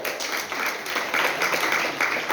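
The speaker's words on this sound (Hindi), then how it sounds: "एक जोरदार तालियां उनके लिए भी होनी चाहिए।" An audience claps at a school science exhibition, a dense, steady round of applause from many hands, loud and continuous throughout.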